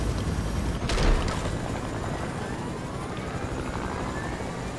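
Helicopter rotor and engine noise in the Fortnite battle royale game, a steady broadband whir with a brief louder burst around the first second, holding on continuously without talk.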